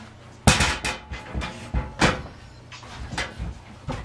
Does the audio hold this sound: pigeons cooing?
no